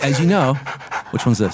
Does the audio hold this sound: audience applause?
no